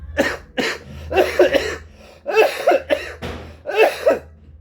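Repeated heavy coughing fits from a man with a badly worsened cough, several loud, raspy hacks in quick clusters close to the listener, over a steady low hum, with no speech.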